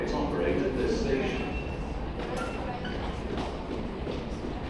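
A London Underground train rumbles and clatters steadily through a tunnel, a constant loud roar with faint voices mixed in.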